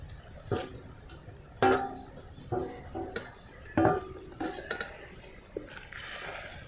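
Grated coconut stirred into thin sugar syrup in a pan for coconut barfi: a spoon gives quiet, scattered clinks and scrapes against the metal at irregular intervals.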